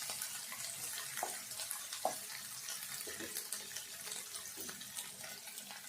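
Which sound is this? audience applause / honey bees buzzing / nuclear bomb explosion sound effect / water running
water running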